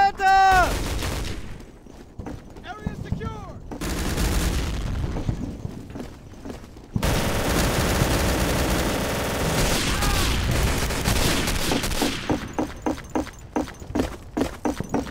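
Gunfire in the World War II shooter Day of Defeat: Source: loud bursts of rifle and machine-gun fire with booming blasts, coming in clusters with brief pauses, dense for most of the stretch.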